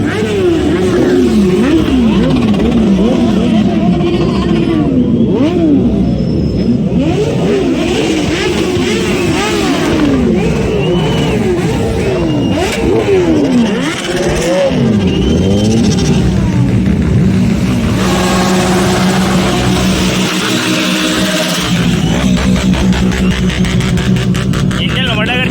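Car and motorcycle engines rev loudly again and again at a college auto event, their pitch climbing and falling in repeated sweeps close by, with people talking over the noise.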